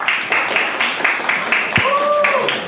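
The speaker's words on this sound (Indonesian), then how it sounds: "Kasih tepuk tangan dulu" Rhythmic group clapping from high school students in a classroom, regular beats repeating at a steady pace, with a short whistle-like tone rising over the claps partway through.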